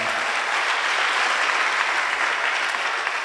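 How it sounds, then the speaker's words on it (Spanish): A church congregation applauding the Lord, a dense, even wash of clapping from many hands that holds steady and loud throughout with no talk over it. "Damos aplausos al Señor"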